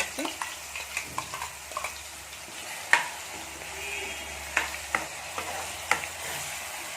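Onion paste fries in hot oil for a Telangana-style fish curry while a spoon mixes it, the quiet sizzle punctuated by repeated sharp scrapes and taps against the pan.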